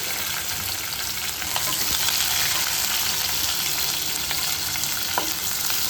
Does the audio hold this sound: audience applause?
no